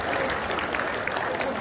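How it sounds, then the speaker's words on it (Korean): A crowd at a clan general meeting claps in welcome for a board member, a steady, full round of applause that continues evenly throughout. "박수로 환영해 주시기 바랍니다."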